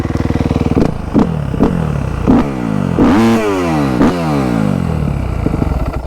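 A used cross/enduro motorcycle engine runs steadily at close range, its rapid idle punctuated by several sharp revs that rise and fall, with no talking over it.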